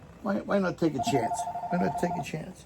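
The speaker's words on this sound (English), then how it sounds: "Oh, that's the phone." A telephone gives a sustained electronic ring tone partway through, heard under a voice singing a short repeated phrase, while other brief tones sound alongside.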